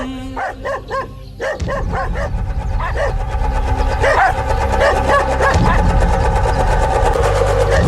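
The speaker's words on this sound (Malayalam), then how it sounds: "കാട്ടിൽ നായിൻ കുരകൾ അപശബ്ദം" Dogs bark in a forest scene of a stage performance: repeated yelping barks and whimpers ring out over a dense, loud, continuous background.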